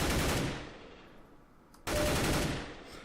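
Rapid automatic gunfire from a CS:GO aim warm-up session comes in two dense bursts, a loud volley, a brief near-silent gap, then another sustained burst.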